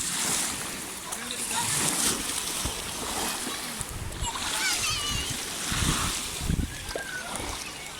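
Items being washed in sea water splash and slosh close by, with waves and wind behind and a child and an adult talking over the water.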